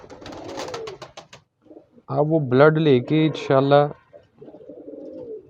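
Star pigeons in a loft coo in a short burst of low, throaty calls, close and fairly loud, with someone talking before and after.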